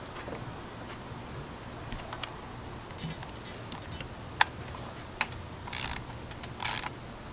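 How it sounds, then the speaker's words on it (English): Ratchet clicking as a spark plug is snugged down on a 2.0T engine in an Audi A4 B8, a few faint, scattered clicks and short mechanical bursts close by in a quiet garage. "Right when it starts biting, just get your ratchet."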